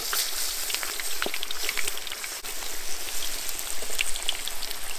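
Peppers fry in hot oil in a kazan over coals, giving a dense, steady crackle with sharp spits and pops throughout and no voices.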